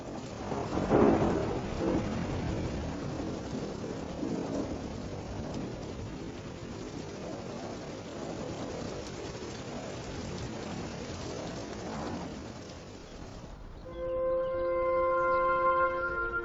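A thunderstorm over sagebrush desert: long rolling thunder rumbles over steady rain, loud and continuous, fading slightly before musical tones enter near the end.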